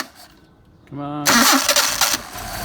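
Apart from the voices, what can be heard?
Mercedes 190SL engine starting with rebuilt Solex carburetors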